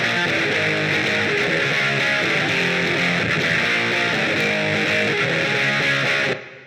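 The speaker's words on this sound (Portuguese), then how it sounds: "quando ele ligava a distorção, vinha um som muito pesado e cheio" Heavy distorted electric guitar, a dense, saturated wall of chords held loud and steady for about six seconds before cutting off abruptly.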